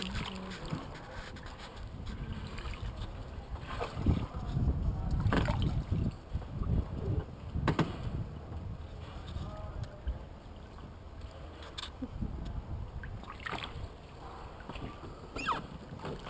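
A Venetian gondola paddled through a canal, soft water swishes and sloshing strokes with faint wind noise and a few knocks, heard at close range, with only low-level background talk.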